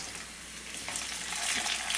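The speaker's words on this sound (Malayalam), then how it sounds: "പിന്നെ കറിവേപ്പില നന്നായിട്ടൊന്ന് ഫ്രൈ ചെയ്തെടുക്കാം." Curry leaves and onion frying in hot oil, a dense, close sizzling crackle that grows slightly louder and brighter over two seconds.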